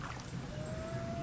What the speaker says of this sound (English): If you can hear the loon, there's a loon howling over there.